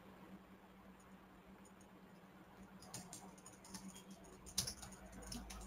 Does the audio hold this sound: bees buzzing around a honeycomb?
no